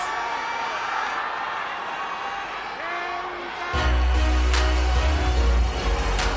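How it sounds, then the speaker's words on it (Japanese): A Japanese pro wrestling arena crowd at Ariake Colosseum erupts into cheers as the reigning IWGP junior champion enters the ring, a loud roar swelling suddenly and sustained with whoops over a booming low rumble, after an announcer talks. "歓声が沸き上げます"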